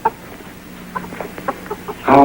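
A chicken at a county fair clucks in short, scattered bursts over a soft, noisy background, ending in a sudden louder rush of sound.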